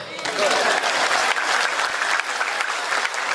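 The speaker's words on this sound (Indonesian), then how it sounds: "Mana tepuk tangannya?" Audience applause at an Islamic lecture by a preacher, a dense burst of clapping that fills the room steadily for about three seconds.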